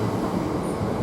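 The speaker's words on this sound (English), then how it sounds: "1417 Great Northern from Kingsling to London King's Cross, 387115 on the front." A Great Northern Class 387 electric train at Ely station gives off a steady, dense rumble of wheels and motors, close by and continuous through the brief moment.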